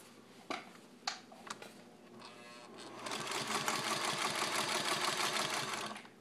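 A Singer 301 sewing machine stitches with a shortened stitch length: a few sharp clicks and knocks first, then a steady close whirring hum of rapid stitching for the last few seconds.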